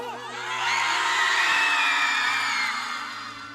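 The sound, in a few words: audience shouting and cheering at a stage show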